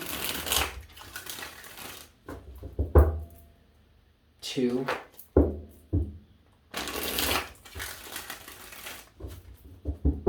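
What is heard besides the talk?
shuffling tarot cards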